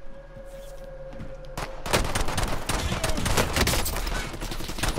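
Dense bursts of automatic gunfire in the Call of Duty Warzone video game erupt after a short lull and continue in rapid overlapping volleys, loud and close.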